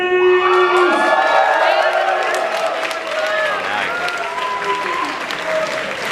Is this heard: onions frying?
no